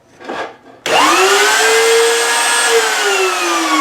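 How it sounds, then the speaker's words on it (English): A loud power router whines steadily at high speed after a brief rustling start, its pitch rising and holding, with no speech. "Now a router, like a lot of power tools, is very loud."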